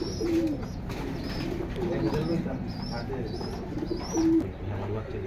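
Pigeons coo repeatedly in a loft, their low rolling calls close and clear, with a few higher chirps over a busy background and a voice speaking at times.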